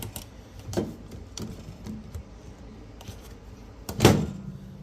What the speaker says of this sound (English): And I will just go ahead and close the door here.